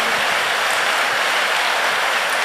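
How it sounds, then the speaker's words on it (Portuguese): A church congregation at a camp service applauds, producing a steady, dense wash of clapping that fills the hall evenly without pause or speech. "Dê um aplauso ao Senhor."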